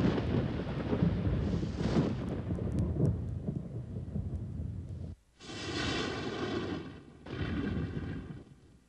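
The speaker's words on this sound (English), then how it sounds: "a violent thunderstorm builds and breaks over ground zero" A violent thunderstorm breaks over open desert ground, with heavy rumbling thunder and steady rain building, then two loud, separate rolling thunder crashes toward the end, no voices.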